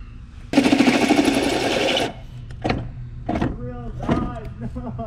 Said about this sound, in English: All right, now to drill it.